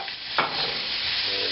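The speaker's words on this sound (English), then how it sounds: "And there goes the celery for a little more crispness" Celery stir-frying in a hot pan for Asian fried rice gives a steady, close sizzle throughout, with a brief louder hiss as the pieces hit the oil, and no talking.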